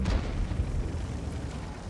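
An artillery shell hits in World of Tanks, giving a dull, low explosive boom that rolls into a rumbling tail.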